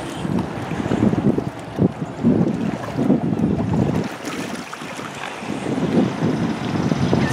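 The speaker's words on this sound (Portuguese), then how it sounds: "ali vem um barco" A boat approaches across the water near a pair of white swans, its steady low engine drone rising and falling under heavy wind buffeting on the microphone, with no talking.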